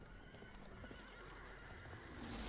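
Horse neighing in the video game Battlefield 1, with hoof clip-clops mixed in over steady battlefield noise; a continuous, fairly faint whinny that swells slightly toward the end.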